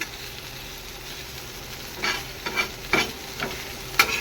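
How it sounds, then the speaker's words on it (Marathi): Okra being stirred in hot oil for a home-style vegetable dish, a steady low sizzle broken by several sharp spatula scrapes against the pan, close and fairly loud with no voices. "भेंडी छान मिक्स करून घेऊया"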